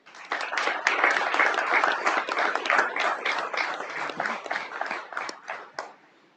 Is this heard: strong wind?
no